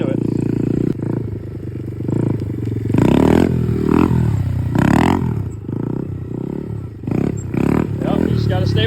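A motorcycle engine revs hard and repeatedly during circle wheelie practice, loud and close, with rising and falling throttle bursts in an uneven rhythm; someone talks over it in places.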